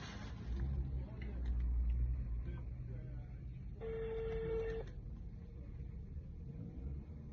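A phone ringback tone sounds inside a car, a steady electronic tone lasting about a second under low engine rumble, with a voice talking faintly before it.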